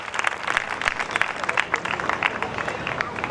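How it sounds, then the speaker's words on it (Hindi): An audience at a Jain poetry gathering in Ladpura, Kota breaks into lively, dense applause, a steady patter of many hands clapping with some crowd noise underneath. "एक बार जोरदार तालियां बजाएं भैया"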